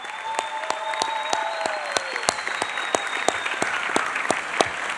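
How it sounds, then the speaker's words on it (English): A graduation ceremony audience at Duggan Academy claps steadily, a dense sustained round of applause with sharp individual claps standing out, and a few whistles drifting over the crowd. "Let's give a big round of applause to the administration,"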